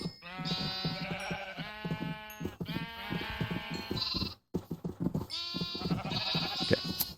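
Several sheep in Minecraft bleat one after another in a quick, overlapping chorus, close and loud, with a short gap partway through before the bleating resumes.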